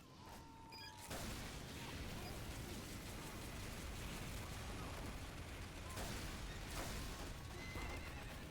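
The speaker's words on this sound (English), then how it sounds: "That was a horse." A horse in the game Team Fortress 2 Mann vs. Machine gives a brief whinny at the start, then a loud sustained rumble of explosions and gunfire takes over.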